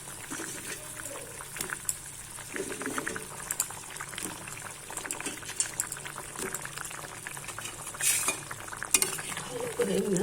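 Fish egg fritters stirred in a boiling curry, with bubbling liquid, spoon scrapes and clinks against the pot, close and moderately loud, while a voice talks intermittently over the cooking.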